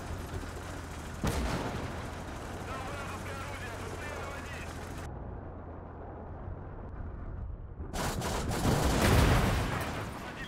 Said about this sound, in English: it's bloody mortars!